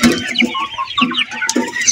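45-day-old Sonali chickens clucking inside a poultry farm, a steady overlapping chorus of short clucks and calls close by, with no talk.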